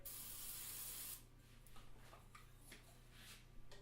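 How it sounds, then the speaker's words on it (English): Cooking spray hisses onto a nonstick pan in one steady, close burst of about a second, then stops, leaving quiet kitchen room tone with faint light clicks. "Let's give it a nice little spray."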